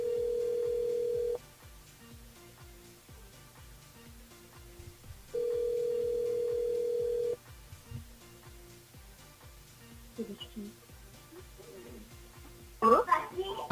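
A telephone line rings during a live radio call-in show, two long steady tone bursts separated by a pause, followed by faint line noise and a brief crackle as the call connects.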